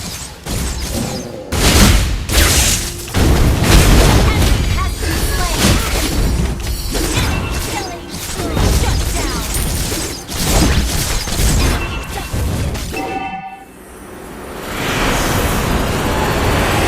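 A base explodes in Mobile Legends, with a loud series of booms, crashes and shattering effects in game mayhem, ending in a deep blast and a falling rumble.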